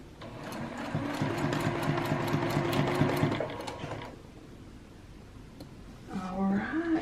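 A sewing machine stitching quilt pieces runs in a fast, steady whir for about four seconds, then stops, with a person talking over and after it.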